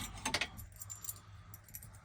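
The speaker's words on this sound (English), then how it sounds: "Keys." Keys jangle in short bursts close by, a bright metallic clinking at the start and again near the middle, over a quiet background with no talk.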